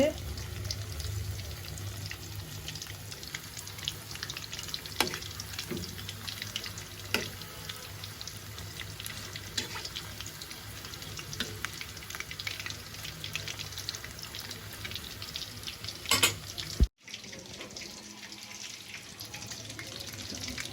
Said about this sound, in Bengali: অল্প আছে ধীরে ধীরে ভাজা হচ্ছে